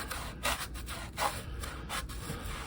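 Rhythmic scrubbing with an old toothbrush stripping paint off a van, repeated rasping strokes at an uneven pace, close and fairly quiet.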